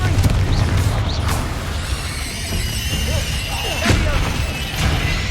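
Confringo blasting spell cast in the video game Hogwarts Legacy, heard as loud, booming explosive bursts with crackling debris over steady game background noise.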